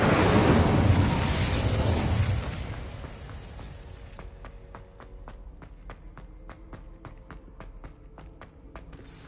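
Incendio fire spell cast in Hogwarts Legacy, a loud burst of roaring flame that fades over about two seconds, followed by a quieter run of rapid, evenly spaced clicks.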